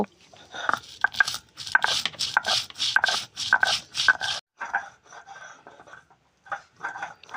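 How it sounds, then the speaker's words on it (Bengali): Cumin and black pepper are ground into paste by hand on a grinding stone in a village kitchen: quick, regular rubbing strokes, close and crisp, then softer, sparser scrapes toward the end. "এরপর জিরে আর গোলমরিচটাও বেটে ফেলব"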